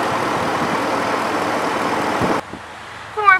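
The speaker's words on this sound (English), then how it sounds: "And underneath the hood, there's a V8 5-liter engine." A Ford F-150 pickup with a 5-liter V8 idles in a steady, fairly loud hum that cuts off abruptly partway through, leaving a quieter background with a short chirp at the end.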